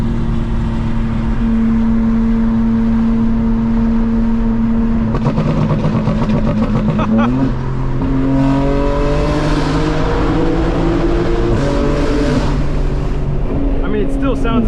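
Tuned 2025 BMW M4 Competition xDrive accelerating hard, its engine droning loudly and steadily with rising pitch sweeps as it climbs through gears, several quick shifts along the way, heard close from inside the car.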